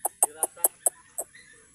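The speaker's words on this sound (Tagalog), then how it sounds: "Nakakatuwa to talagang mga manok na to." Chickens in a Filipino roadside setting near a dam, giving a run of about six sharp, rhythmic clucks close by, then fading into quieter calls.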